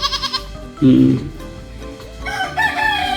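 A hen on a goat farm lets out a loud, close cluck-like squawk, with other farm animal calls around it.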